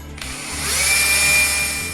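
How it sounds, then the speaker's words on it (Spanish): An electric drill with a 5 mm bit bores a hole for a joining fixture, its motor rising into a loud, sustained whine that holds steady for about two seconds. "Vamos a perforar. Directamente con una broca de 5 milímetros."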